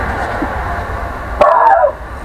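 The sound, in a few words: dog barking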